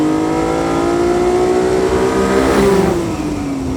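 A Ferrari Dino 246 GTS on its stock exhaust and intake revs steadily and loud in second gear, the pitch climbing, then easing back down near the end.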